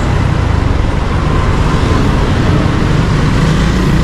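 Steady, dense road traffic rumble at a street intersection with a traffic light, engines droning and vehicles passing continuously, fairly loud and close, with no talking.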